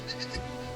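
Goats and sheep on a farm, a short faint bleat rising briefly over quiet background hum, single and somewhat distant.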